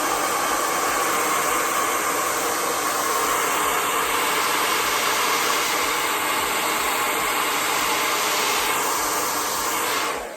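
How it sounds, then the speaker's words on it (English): A hair dryer blow-drying wig lace blows in a loud, constant whoosh close to the microphone, running steadily without pause. "get your blow dryer and blow dry."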